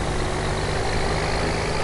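Tractor engine in Farming Simulator 2011, running steadily and loud with a dense, even rumble throughout, no voices over it.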